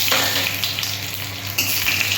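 Bay leaf, dried red chillies and five-spice seeds sizzle loudly in hot oil, giving a close, dense, continuous crackle with a sharper burst near the end and no voices.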